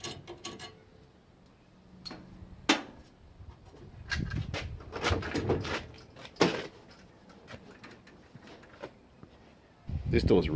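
An EJ Holden car door, stiff and dirty, handled during disassembly: a series of sharp clicks, knocks and latch clunks at close range, scattered irregularly with quieter rustling between.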